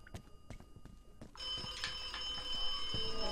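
A telephone rings in the video game The Occupation, a bright electric bell starting after a stretch of quiet clicks and taps and continuing steadily, moderately loud, to the end.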